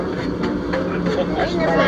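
The Branson Scenic Railway train rolls along its track, heard from a dome car as a steady loud rumble with wheel clatter throughout.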